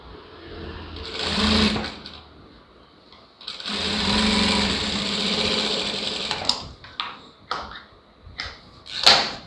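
A sewing machine stitches a lined blouse in short bursts, two longer runs of fast whirring followed by several quick stops and starts, close and loud.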